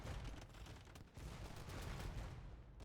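Cannons fire during a video game battle in a dense, fairly faint volley of rapid, overlapping shots and crackling bursts that continues without a break.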